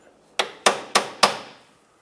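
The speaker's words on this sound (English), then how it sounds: "You can take a pry bar and very gently tap it through to help it seat." A pry bar gently tapping a rear CV axle through a 2007-2017 Jeep Compass knuckle gives four sharp metallic taps in quick, even succession, close and fairly loud, each with a short ringing decay, and no voices.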